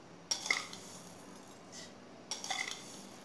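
A spoon adding sugar to a sabja seed summer drink gives two short bursts of clinks and scrapes against the vessel, quiet and close, with a soft pause between them and no voices.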